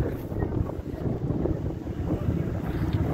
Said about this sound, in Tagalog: Mahampas yung hangin.